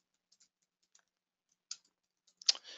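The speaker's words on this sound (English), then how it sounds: "and I can begin typing." Sparse, quiet clicks of typing on a computer keyboard, a few isolated keystrokes followed by a short quicker cluster near the end, close and soft in an otherwise silent room.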